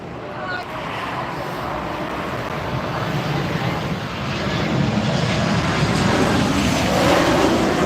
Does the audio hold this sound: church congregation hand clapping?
no